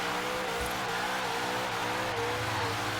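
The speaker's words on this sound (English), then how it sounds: "Thing is just ripping mad burnouts right now" A supercharged HSV GTS in Forza Horizon 3 does burnouts, engine screaming at high revs in a dense continuous roar with tire squeal layered through it, loud and unbroken.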